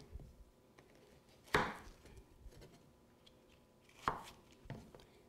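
A knife cuts zucchini into small pieces on a board, making two sharp chops and a softer third knock, separated by quiet pauses, close and fairly faint.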